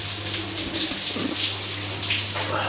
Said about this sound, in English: More of a steady trickle than a super powerful shower as we'd sort of expect back home